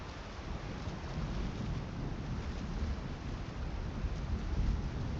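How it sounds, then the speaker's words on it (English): Steady rain pours with deep rumbling thunder underneath in the video game South of Midnight, a continuous heavy wash of noise without any voices. "I like the rain effect."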